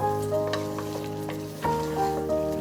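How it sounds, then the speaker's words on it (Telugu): Curry leaves fry in a pan over a medium flame, a soft steady sizzle with light stirring clinks and scrapes, fairly quiet and close with no talking. "కరివేపాకు వేసిన తర్వాత ఒక 10 minutes వరకు మీడియం ఫ్లేమ్లో అలాగా దాన్ని ఫ్రై అవనివ్వాలి"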